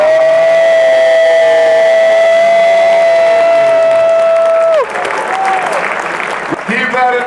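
A long sustained whistle-like tone gives way to a loud roar of crowd cheering and clapping, close and energetic.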